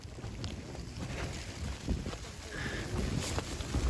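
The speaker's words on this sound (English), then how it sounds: "That's the wind at the moment." Steady wind buffets a snowy mountainside wild camp in the freezing Scottish Highlands, rushing and gusting against the microphone with low rumbling noise, no talking.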